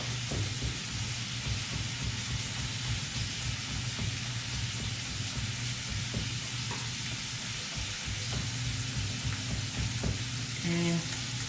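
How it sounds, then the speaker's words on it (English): Bacon frying in a pan, a steady, even crackle and sizzle that carries on without a break throughout, fairly soft and close, with a few faint clinks near the end and no talking. "See that our bacon is doing nice. Just starting to sizzle in the pan."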